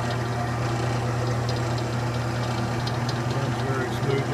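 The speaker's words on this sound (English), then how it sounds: "There you have it, the Delta Rockwell, or Rockwell Delta, however you prefer, 28200 14-inch bandsaw." Delta Rockwell 28200 14-inch bandsaw with replaced tires running, a smooth steady low motor hum with a faint whirring on top, continuous and close.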